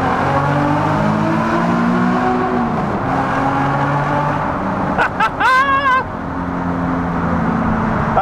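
A Nissan 370Z engine revs hard and accelerates through a tunnel with the windows cracked, its loud, droning note echoing off the walls as it shifts between gears; a brief higher whine cuts in near the end.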